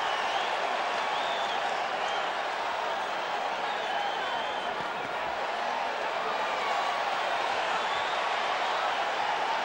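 A boxing arena audience at a heavyweight bout applauds and cheers in a dense, continuous roar of clapping and voices, steady and loud throughout.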